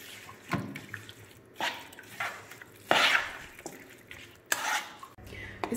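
Biryani ingredients with tamarind are stirred and marinated in a pot, giving intermittent wet scraping and clinking of a utensil against the vessel, with one louder scrape midway, close and without speech.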